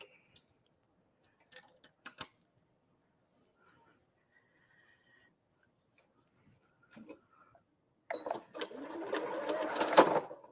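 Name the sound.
sewing machine stitching a test on quilting scrap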